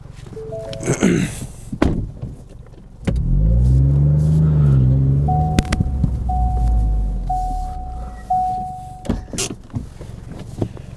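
A Ford Fiesta ST makes a tight U-turn, its engine settling into a steady low rumble with a few thumps and a faint whine near the end.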